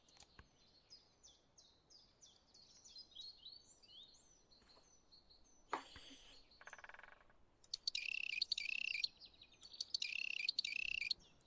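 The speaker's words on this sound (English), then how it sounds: "Bird noises are difficult." Bird calls from the Wingspan board game: a series of quick high chirps and tweets at first, then two loud, strident bursts of repeated trilling calls near the end, alone without talk.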